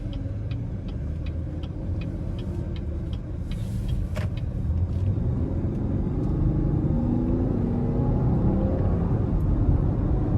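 A 2018 Cadillac XT5 Platinum AWD in sport mode pulls out of a corner under moderate throttle. Steady, loud cabin rumble from the engine and road fills the whole stretch, with light ticking early on and no talk.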